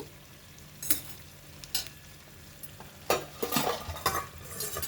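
Minapa rotti, a traditional Telugu lentil flatbread, fries on its second side in a pan. A low sizzle runs underneath while several close scraping and shuffling bursts come and go irregularly, with no talking.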